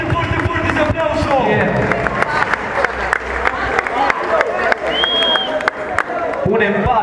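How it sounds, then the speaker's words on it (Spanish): An audience at a breakdance crew battle final applauds and cheers loudly, with dense clapping and crowd noise throughout and a voice talking over it. "Un fuerte aplauso, uno más grande."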